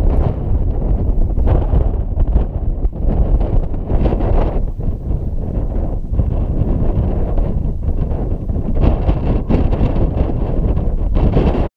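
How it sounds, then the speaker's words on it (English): Strong easterly wind gusts over a loch in the Donegal mountains, buffeting the microphone with a constant, loud, rumbling roar and no voices. "it was an easterly wind today"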